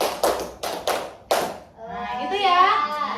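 Schoolchildren in an Indonesian classroom clap the "tepuk fokus" focus-clap routine, several sharp group claps in an uneven rhythm, then children's voices chanting and speaking loudly.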